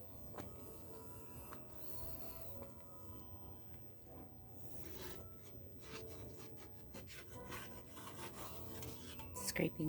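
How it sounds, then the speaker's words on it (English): A utensil scrapes sugar from the sides and bottom of a pot of homemade fudge, a soft continuous rubbing and rasping with a few sharper clinks near the end, close but quiet. "scraping the sugar off the sides as well as I can"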